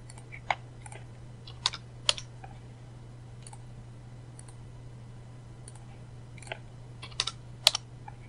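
Sparse keystrokes on a computer keyboard as numbers are entered while stepping through a Python loop in a debugger, a few isolated clicks over a steady low hum, with no talking.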